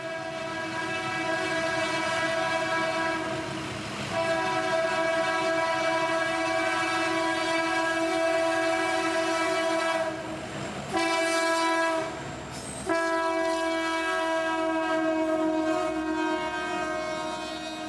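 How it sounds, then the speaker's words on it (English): A Norfolk Southern freight train led by four locomotives rolls out at Jacksonville, Florida, its engines droning loudly and steadily while the horn sounds in sustained blasts, with brief breaks and clanking near the end. "Coming out currently would be that 330 train with 4 engines rolling out as 29F would approach"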